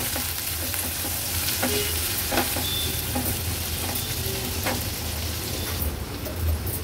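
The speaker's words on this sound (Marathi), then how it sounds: "कांदा तेलावर थोडासा शिजवून घ्यायचा आहे।" A small onion sautés in oil in a pan, with a constant crackling fry and repeated light clicks and scrapes of a stirring spoon; the sizzle holds steady throughout without speech.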